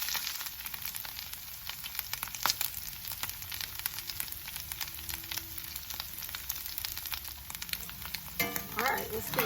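Canned corned beef hash fries and crisps in a pan, giving a steady close sizzle and crackle throughout, with brief scraping stirs toward the end.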